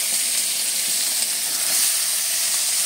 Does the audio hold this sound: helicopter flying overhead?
no